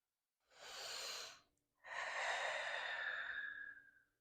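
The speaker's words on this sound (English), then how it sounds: "and I breathe." Two slow, close, breathy exhalations during a low-back yoga stretch, the first shorter and the second longer and fuller, separated by a brief pause, soft and airy against near silence.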